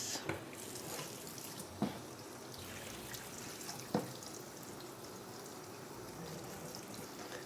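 Water pours from a watering can onto potted plants during a repotting session, a steady soft splashing stream with a few sharper drips, close and moderately quiet.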